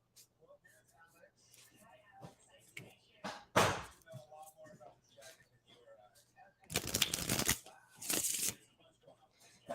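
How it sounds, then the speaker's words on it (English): Tarot cards are shuffled in a few short, crisp riffling bursts, one brief and then a longer double burst, heard up close between stretches of quiet, low talk. "So, Taka, I am shuffling for you now."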